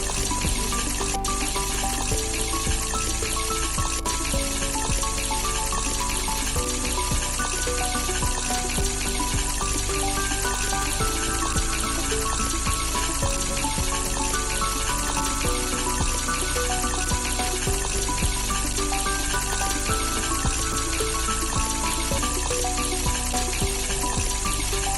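Falafel patties frying in hot oil, a steady, dense sizzle and bubbling that holds at an even, loud level throughout with no talking.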